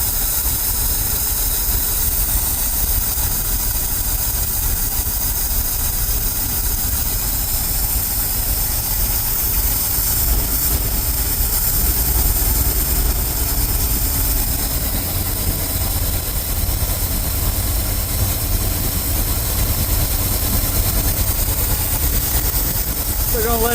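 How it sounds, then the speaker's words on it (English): A Ford F350 dump truck engine idles roughly, carburetor trying to boil over, as a steady, loud, continuous rumble with hiss, no voices over it. "And it's idling really rough."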